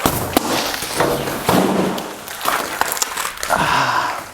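A glass door pane coated with security film is struck repeatedly, giving loud close thuds and crunching, crackling glass as it gives way and falls in.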